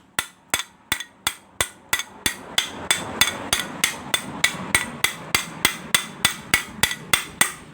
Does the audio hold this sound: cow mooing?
no